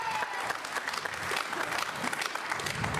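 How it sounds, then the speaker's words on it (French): Audience applause at a Téléthon talent show, dense continuous clapping from a crowd filling the whole stretch at an even, lively level. "On peut les applaudir, s'il vous plaît?"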